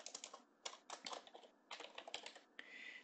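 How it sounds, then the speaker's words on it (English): Rapid bursts of typing on a computer keyboard while building a logo in a design program, with close, crisp key clicks in uneven clusters and short pauses. "I can go back and now type all"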